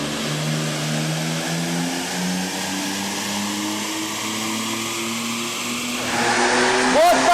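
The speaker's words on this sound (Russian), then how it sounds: "Вот так вот и меряется мощность на машине!" A car engine runs hard on a dynamometer, a loud sustained drone with rising and falling tones that climbs in pitch near the end, accompanied by a whooshing cooling fan.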